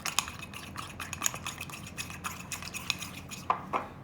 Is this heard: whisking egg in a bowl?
yes